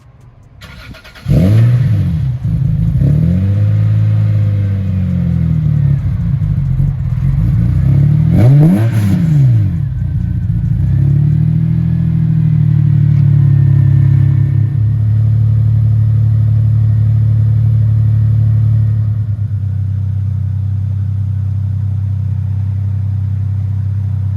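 Lexus SC300 with a newly finished aftermarket exhaust starting up and revving, two sharp throttle blips followed by a held rev, then settling into a deep, loud, steady idle burble close to the microphone.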